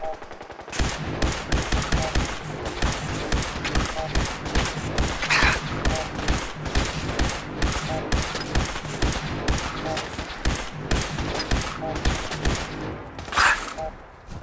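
Sustained automatic gunfire in Fallout 4, dense rapid volleys of loud, close shots that keep going with little break, and occasional voices between bursts.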